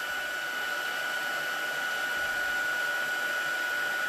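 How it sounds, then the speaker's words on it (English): Embossing heat tool blowing on its highest setting to melt embossing powder, a steady, loud, close whir with a constant high whine and no talking. "Setting it with our heat tool. I'm using this on the highest setting."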